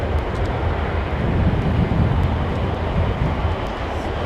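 Steady, loud roar of a Bombardier Global business jet arriving from Amsterdam at London Heathrow Airport, a broad continuous rumble with no pauses and no voices.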